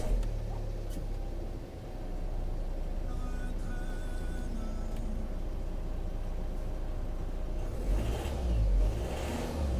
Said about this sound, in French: Quelques accélérations pour amener le carburant jusqu'au moteur